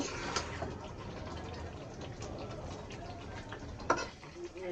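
Chicken pieces sauté in a pan for a home-style chicken roast, a soft, steady sizzle with light stirring scrapes and a sharper clank near the end.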